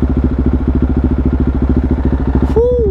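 A motorcycle engine chugs steadily and loudly up close while riding, its rapid even firing pulses filling the whole stretch, with a brief higher tone near the end.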